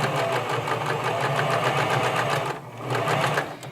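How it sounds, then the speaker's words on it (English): A sewing machine runs a seam along the bottom of a pinned pocket, loud rapid mechanical stitching with a brief pause partway, then resuming close up. "Now I sew along the bottom of the pocket."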